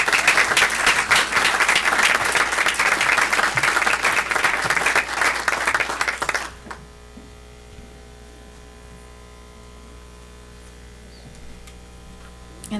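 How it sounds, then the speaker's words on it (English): A board of education meeting audience gives steady applause with dense, even clapping for about six seconds. It then stops abruptly, leaving only a quiet electrical hum in the room. "Please join us all in giving Ariana a well-deserved round of applause"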